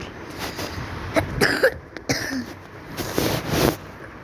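Several harsh coughs from someone with a cold come in short bursts, close to the microphone, with a brief throat clear between them.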